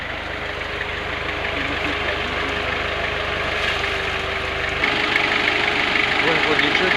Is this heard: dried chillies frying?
no